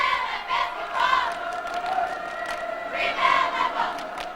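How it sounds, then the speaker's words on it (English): A high school boys' basketball crowd in a gym cheers and shouts steadily, a loud, sustained roar from many voices that swells in waves over several seconds. "Norristown's crowd trying to get into it here."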